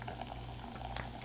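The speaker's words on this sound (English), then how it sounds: "I'm just going to give it a big hefty pour here." A Super IPA, an Alpine and New Belgium collaboration beer, poured heavily from a bottle into a glass gives a steady, close fizzing and glugging rush of liquid that runs unbroken for a moment.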